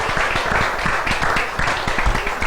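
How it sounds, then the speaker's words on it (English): Audience applause breaks out after a porch chat gathering at Iles House, a dense, steady burst of many hands clapping close by for a few seconds, with no voices over it. "can we have a round of applause again"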